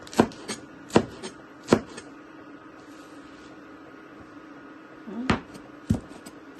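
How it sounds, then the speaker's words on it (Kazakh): Sharp knife strokes cutting lettuce on a cutting board, a few irregular chops spaced out with quiet pauses between, close by, no talking. "Салатты да қазір былай кесіп."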